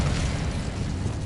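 Incendio fire spell in Hogwarts Legacy, cast inside a decayed catacomb: a loud, continuous burst of roaring flame lasting about a second, heard alone.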